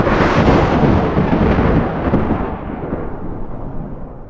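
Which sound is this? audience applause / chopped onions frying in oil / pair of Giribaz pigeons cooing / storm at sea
storm at sea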